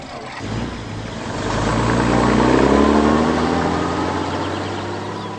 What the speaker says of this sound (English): He's going in his truck.